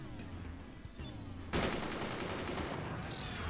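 Sustained machine gun fire from machine gunners in the strategy game Forts, a busy fusillade that starts faint and swells into a louder, continuous rattle partway through, with no talk over it.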